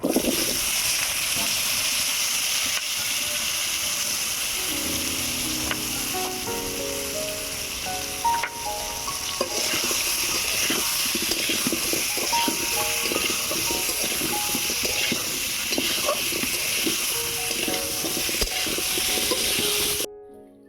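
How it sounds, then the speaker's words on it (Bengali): Potatoes fry in a pan in a village kitchen, giving a steady, crackling sizzle with intermittent stirring scrapes and faint animal bleats in the background, then cutting off at the end. "এবারে আলুটা ভেজে নেব।"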